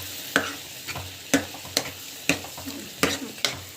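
Lentils are stirred in a hot pan: rhythmic scraping strokes repeat about once a second over a soft, steady sizzle, with no one speaking.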